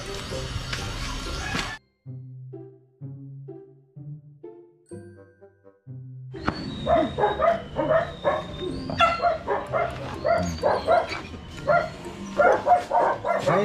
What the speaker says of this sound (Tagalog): Huwag mong batuhin ang aso kasi.